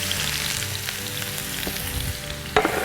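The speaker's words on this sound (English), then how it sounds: "We're going to add our onions. You're going to hear a little sizzle" Onions sizzle in a hot pan, a steady crackling fry close by with small pops and a brief stir or clatter near the end.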